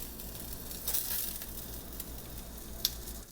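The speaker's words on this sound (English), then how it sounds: "Let the pork sear for a couple minutes and then flip it over to check on progress." Pork tenderloin coated in a sugary Memphis-style BBQ dry rub sears in a pan, giving a quiet, steady sizzle with a brief louder hiss near the start and a sharp pop toward the end.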